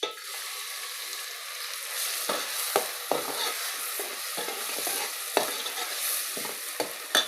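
Chopped onion and green chilli frying in a pan, a constant soft sizzle broken by several sharp scraping stirs of a utensil, close and alone.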